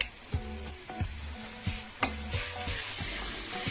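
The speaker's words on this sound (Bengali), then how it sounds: "মশলা ভালো করে ভেজে নিচ্ছি" Ginger and garlic paste frying with browned onions in a pan, a close, steady sizzle broken by regular scraping stirs of a spatula against the metal.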